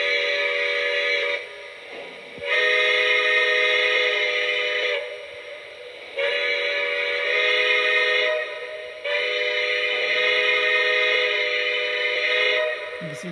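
Lionel model steam locomotive whistle blowing in four long, steady chime blasts with short gaps between them, loud and close, with no talk.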